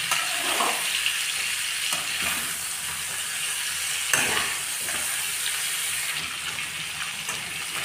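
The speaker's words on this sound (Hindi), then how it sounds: "अभी मीट थोड़ा ब्राउन होना शुरू हो गया और भी फ्राई करना है।" Pork meat being browned for a pork with bamboo shoots dish sizzles steadily in a pan, with occasional stirring scrapes, heard up close with no talk.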